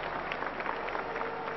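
A good-sized crowd at an international ice hockey game in Prague keeps up a steady wash of cheering and applause, a dense, even murmur of clapping and voices heard from a distance throughout.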